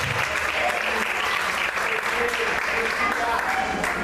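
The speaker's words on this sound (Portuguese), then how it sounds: "Aplaude o Senhor nessa noite" A church congregation claps for God at an evening service, sustained dense applause filling the room for several seconds, with faint voices and a preacher's speech mixed underneath.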